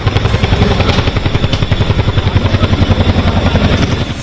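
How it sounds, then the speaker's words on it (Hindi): Indian Air Force Chinook heavy-lift transport helicopter hovering above Dal Lake, a loud, steady rotor roar with a fast rhythmic blade thump pulsing throughout, close and continuous with no talk. "डल लेक के ऊपर काफी देर तक चिनूक मंडराता रहा"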